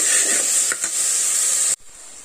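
Prawn biryani masala with coriander and mint sautéing in a pan, a steady bright hiss and sizzle with a couple of soft stirring knocks, cutting off abruptly near the end.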